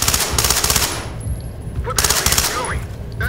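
Automatic gunfire in a multiplayer shooter video game, rapid bursts of shots up close, then a brief pause before more firing.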